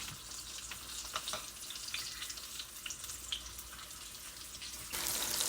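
Green tomatoes frying in hot grease in a home kitchen, a steady, fine crackling sizzle with scattered pops, fairly close and continuous, growing slightly louder near the end.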